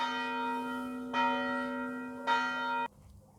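A single church bell in a village rings with a sustained, ringing tone, struck three times at roughly even intervals before stopping abruptly; fairly close and clear over quiet outdoor background, with no talking.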